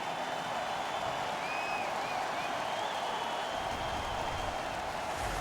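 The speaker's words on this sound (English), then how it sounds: "The Kings are up on their feet, banging the boards." Steady roar of an arena crowd in the hockey game NHL 15 fills the space without a break, a dense wash of cheering and applause-like noise with no clear individual voices.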